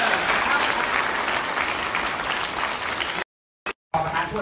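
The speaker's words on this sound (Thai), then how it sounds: "ขอเสียงปรบมือกันนะครับ" Audience at a live trading event in Bangkok giving a dense, sustained round of applause, loud and even, cut off abruptly near the end with brief gaps of silence.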